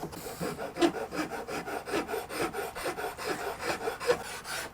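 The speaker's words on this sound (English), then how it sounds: "I'm going to jerk out the Iwasaki fine cut, and we're going to clean these bevels up, or these facets." An Iwasaki fine cut file rasps back and forth over the wooden facets of a guitar neck in quick, steady strokes, close and fairly quiet with no talking.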